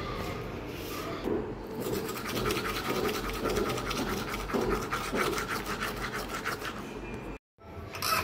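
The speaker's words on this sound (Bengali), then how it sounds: "এখন দাঁত ব্রাশ করব।" Teeth being brushed with a toothbrush make a close, steady run of rapid scrubbing strokes at moderate volume, cutting off briefly near the end.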